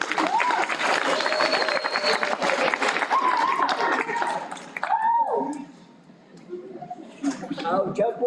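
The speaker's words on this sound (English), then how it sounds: "Let's give him a round of applause again" A graduation ceremony crowd applauds loudly at first, with voices and tonal sounds running through it, then the clapping tapers off and fades to near quiet before some sound returns.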